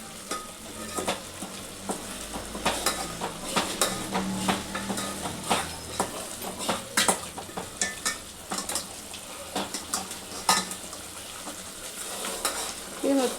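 A rice flour mixture with ground peanut and coconut powder sizzles in a hot pan as it is stirred constantly, giving repeated sharp scrapes and clacks of a utensil over a continuous frying hiss, nearby and without speech.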